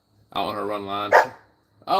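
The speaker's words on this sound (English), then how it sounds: "My dog's going a little crazy." A German Shepherd dog barks indoors at close range, with a sharp bark partway through and another at the end, while someone talks over it.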